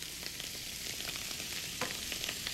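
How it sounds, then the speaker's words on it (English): Shrimp and garlic sizzle hard in a frying pan over high heat, a dense, loud, continuous crackle close up, with brief stirring scrapes and no talk. "keep this frying pan on really high until the shrimp kind of sizzles down a little bit"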